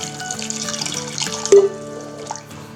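Water is poured into a pot of lentils and chopped carrots, making a steady trickling splash with a brief louder gush near the middle.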